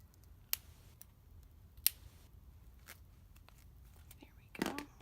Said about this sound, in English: Sometimes I have to go back in with my scissors and make a little bit bigger of a hole